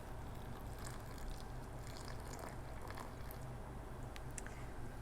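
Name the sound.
hot vinegar brine poured into canning jar through funnel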